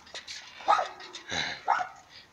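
A dog barks in a video game, several sharp yips and barks spaced across the moment over a faint background.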